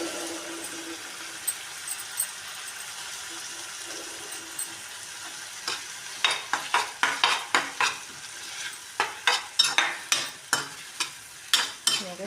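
Garlic paste frying in a pan for a tomato curry, a faint hiss that is soon broken by a series of sharp, rhythmic scrapes and clicks from stirring, close by and with no talk.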